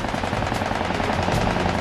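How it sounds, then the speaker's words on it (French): Sustained machine gun fire with tracer rounds streaking around a P-40 fighter in a World War II air battle, a continuous rattling roar of rapid shots, loud and close, with no talk. "les balles traçantes fusent autour du P-40. Ils me tiraient dessus."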